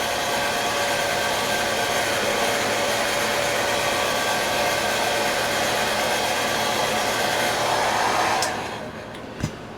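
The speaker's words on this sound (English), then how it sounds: "use our hair dryer to give it a quick dry" A hair dryer blows steadily at full power for several seconds, then shuts off and winds down, leaving a brief click near the end.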